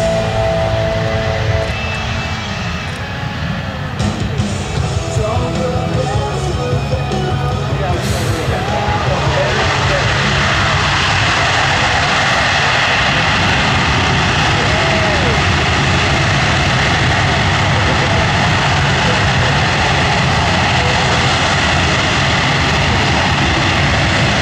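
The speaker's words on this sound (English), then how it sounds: "Is currently demonstrating the ability to back under its own power, which gives it increased maneuverability while offloading cargo" A C-17 Globemaster III military transport jet taxis in reverse under its own engine power at an air show, a loud, steady roar of turbofans that holds for the whole stretch, with a voice speaking over it early on.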